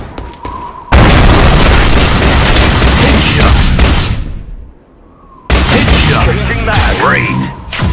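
A frag grenade blast and heavy rattling gunfire in the multiplayer shooter F.E.A.R. Online, loud and close, with a sustained barrage, a brief lull, then another burst of shooting and a shouted voice.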